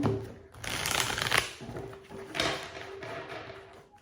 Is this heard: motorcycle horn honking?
no